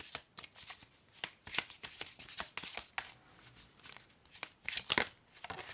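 Repeated riffling and flicking of oracle cards being shuffled and drawn, close and crisp in uneven bursts with short pauses, and no talk over it.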